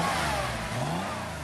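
A Porsche 911 3.0 SC engine revving in neutral, a loud close rising roar that climbs then eases back, alone without any voices.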